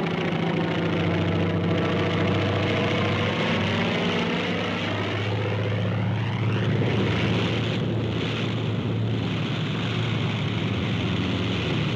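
Propeller plane landing on an aircraft carrier deck, a steady loud engine drone with shifting pitch sweeps as it passes close, the gun cut before touchdown, with no talk over it.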